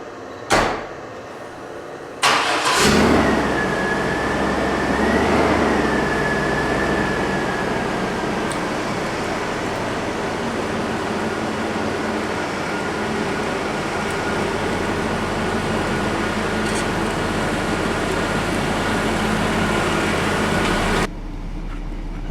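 Chevy S10 with a Vortec 4.3 V6 idling outdoors at night after an intake gasket replacement, a steady low engine drone with a faint whine, preceded by a door or hood clunk at the start.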